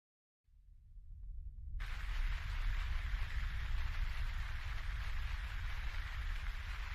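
Steady heavy rain begins after a brief silence, a low rumble that quickly swells into a dense, even hiss of downpour that continues unbroken and fairly loud.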